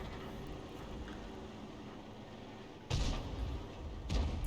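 An artillery gun in World of Tanks fires at a KV-5 tank, a heavy booming shot with a rolling rumble, then a second, softer report shortly after.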